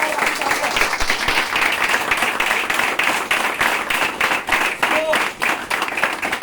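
An audience gives a loud, sustained burst of applause for Mr. Jivlal Dangi, dense clapping filling the whole stretch with a crowd murmur beneath.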